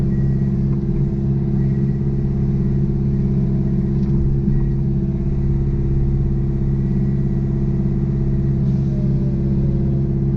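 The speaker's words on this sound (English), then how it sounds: "This motor is a little noisy." A steady, loud hydraulic motor drone of an MTL XC5 brush cutter runs without pause, a constant low rumble with a mechanical hum and no voices.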